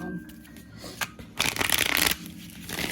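A deck of playing cards is shuffled by hand, with quick riffling and a louder burst of fluttering card noise in the middle, without talk.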